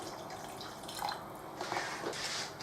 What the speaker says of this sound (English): I'm going to add a dash of water again.